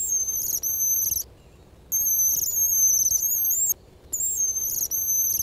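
Imitated call of a wounded thrush, made by a hunter luring thrushes: high, thin whistling phrases repeated in three bursts separated by short silences, loud and close.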